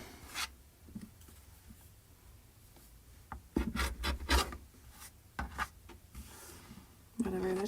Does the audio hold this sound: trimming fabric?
yes